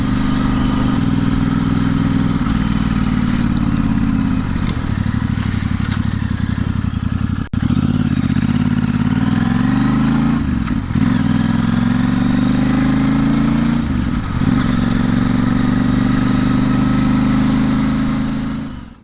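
An Interceptor 650 motorcycle fitted with a Short Shot exhaust runs loud and close, its twin-cylinder idle blipped with several short revs, with no talking.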